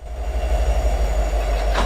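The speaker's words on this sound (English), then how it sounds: "simply click the coupler shank between the vehicles and locomotive will be detached" A locomotive uncoupling from its train in Train Simulator 2017 gives a steady low rumble with a rhythmic rolling clatter and a faint metallic squeal near the end, heard close and continuous.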